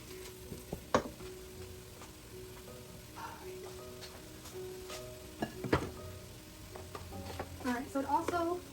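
A flour mixture cooks in a pot for chicken gnocchi soup, soft crackling and sizzling with scattered utensil scrapes and clinks against the pot, growing busier toward the end, with faint background voice.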